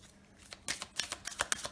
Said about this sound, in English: I feel drawn to one more oracle deck. So let's shuffle this.